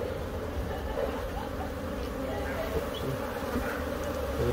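Honey bees buzz steadily and close during removal of a colony from a tree, a dense, continuous hum with no talking.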